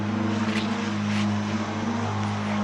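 Loud, steady drone of a propeller airplane engine with a strong low hum, close by and unbroken throughout.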